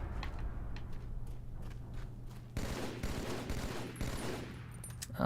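Battle rifle fire in the game Halo 2 crackles in rapid bursts of sharp shots, loud and dense, with clattering impacts and no speech.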